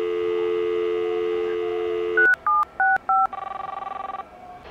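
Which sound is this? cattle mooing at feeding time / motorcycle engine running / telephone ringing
telephone ringing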